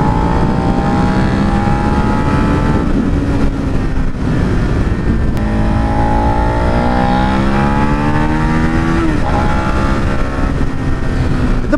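A 2017 Suzuki SV650 motorcycle engine drones loudly and continuously while riding, its pitch climbing through the gears with audible shift dips and rising revs, alone without talk.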